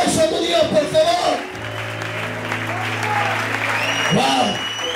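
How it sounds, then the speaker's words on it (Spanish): Applause rises from a congregation at a church preaching event in Oviedo, a broad clatter of hands running under loud voices, shouting and sustained musical tones throughout. "Dale un fuerte aplauso a tu Dios"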